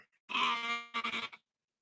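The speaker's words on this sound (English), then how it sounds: "And my sheep in the background." A sheep bleats nearby, one long wavering call followed by a shorter broken one, with silence around them.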